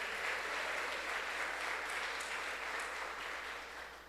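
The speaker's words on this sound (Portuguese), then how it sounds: "Dê um aplauso ao Senhor por isso." Church congregation clapping in praise, a steady wash of applause that holds evenly before fading slightly toward the end, heard from some distance with no speech.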